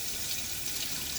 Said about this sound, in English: I like to hold it upside down and kind of rinse off the sides of the soap